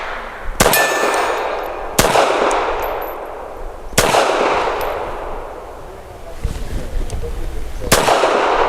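An FN Browning BDA 380 pistol fires four sharp, loud shots about two seconds apart, each crack ringing out with a metallic clang of steel targets and a decaying echo.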